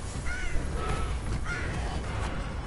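A bird companion attacks in Immortals: Fenyx Rising, giving several harsh crow-like caws at a steady distance over a continuous low game soundscape.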